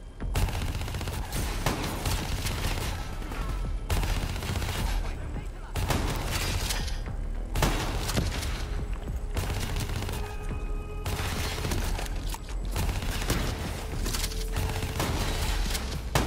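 Rapid bursts of gunfire from a gun in Call of Duty: Black Ops III, loud and continuous with short pauses between volleys, dense and close, with voices talking over the shooting.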